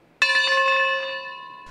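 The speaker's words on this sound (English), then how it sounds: "the camp bell rings out and everyone stops what they're doing to pray for several minutes" A camp bell strikes once, loud and close, then rings on with a clear sustained metallic tone that slowly fades.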